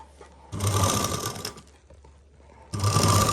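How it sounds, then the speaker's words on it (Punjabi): A sewing machine runs in two loud bursts while stitching a sleeve, whirring with a rapid mechanical chatter, a pause of quieter handling between them. "ਇਸ ਤਰੀਕੇ ਨਾਲ ਆਪਾਂ ਸਲਾਈ ਲਾਉਣੀ ਹੈ"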